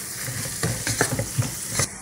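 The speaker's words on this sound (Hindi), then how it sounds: "सभी मसालों को यहाँ पे हम फ्राई कर लेंगे" Turmeric, red chilli and homemade garam masala powders fry in hot oil with a busy sizzle, while a spoon stirs in quick uneven scrapes close by.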